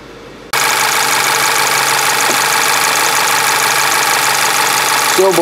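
A 2009 Volkswagen Passat 2.0T with a lean-condition fault idling after a short quiet lead-in, a steady loud close engine drone with an even hum throughout.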